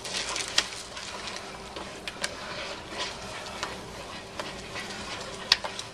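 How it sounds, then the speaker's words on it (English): A big batch of chocolate fudge mixture being stirred steadily in a pot, a soft continuous scraping and sloshing texture with a few sharp clicks of the spoon against the side. "you gotta stir the heck out of this"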